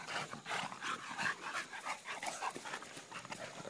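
Pit bulls pant, whimper and give soft yips while playing in a busy, scuffling tangle of sounds, moderately close and without talking.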